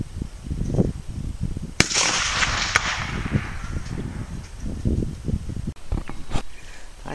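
A single sharp rifle shot cracks out at a range with the target 250 yards off, followed by a brief rushing decay, set among rustling handling noise and a few smaller knocks.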